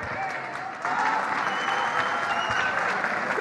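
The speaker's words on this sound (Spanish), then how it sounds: "Ahora, Javier, ahí estamos escuchando los aplausos de la gente." A studio audience breaks into applause during a televised interview, steady loud clapping that swells partway through and continues to the end.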